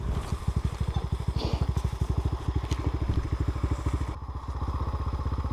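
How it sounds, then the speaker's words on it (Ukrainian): A KOVI Advance 250 supermoto motorcycle engine revs close by with a rapid, throbbing single-cylinder pulse, loud and steady with throttle blips and a brief dip near the end, ridden by schoolkids doing jumps. "Як він впевнено газує"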